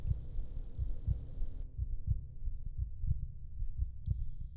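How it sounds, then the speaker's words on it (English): Low, muffled thunking heartbeat pulses at a steady rhythm in the horror game The Voidness, under a faint hum and hiss, with a few soft higher tones; no talking. "the thunking noise is your heartbeat"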